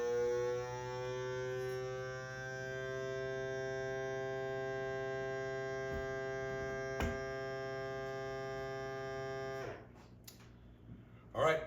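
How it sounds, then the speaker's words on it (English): A steady motorized hum with a strong buzzing drone runs for about ten seconds, then cuts off, followed by a soft click and rustle. "It's vacuum sealing now, and then now it's going to start the seal process"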